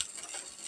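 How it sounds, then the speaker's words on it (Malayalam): Chopped spinach going into a pan where mustard seeds are frying for a Kerala cheera thoran, giving a faint, steady sizzle and crackle throughout with no talking. "അപ്പോൾ ഇതിനകത്തോട്ട് നമ്മുടെ അരിഞ്ഞ് വെച്ചിരിക്കുന്ന ചീര അങ്ങോട്ട് കുറഞ്ഞിടുകയാണ്"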